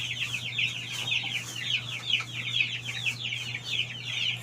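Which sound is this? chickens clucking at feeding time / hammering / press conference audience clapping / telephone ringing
chickens clucking at feeding time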